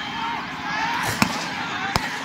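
Gunfire in a village in Goalpara: two sharp, separate shots ring out, the second about three quarters of a second after the first, over a steady background rumble and murmur.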